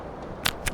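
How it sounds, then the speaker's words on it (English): Two quick, crisp clicks of a tape-reel style menu sound from Disco Elysium, a short snap followed a moment later by a second, close and clear over a quiet background. "And how it's all tape reel noises."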